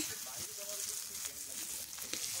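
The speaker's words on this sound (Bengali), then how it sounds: "আর তেলে দেখছো ফোড়নও দিয়েছে, দারচিনি আর লবঙ্গ দিয়েছে" Cinnamon and cloves sizzling in hot oil for a Bengali meat curry, a faint, steady hiss of frying that holds throughout, with soft stirring noises underneath.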